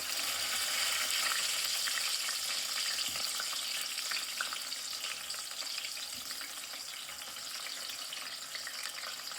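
Tomato halves, chopped onion and garlic frying in hot oil for a village-style fried chutney, a strong continuous crackling sizzle that eases slightly over time, close and unbroken by talk.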